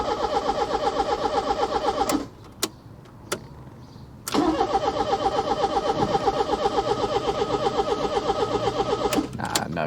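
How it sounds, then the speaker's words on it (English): A Ford Fiesta MK3 1.4 Ghia with a carburetted CVH engine on choke cranks and catches, then stalls; after a brief quiet gap it starts again and settles into a steady, fairly quiet, even running rhythm close by. "We actually ran it for 30 seconds, and that engine sounded really quiet, that CVH."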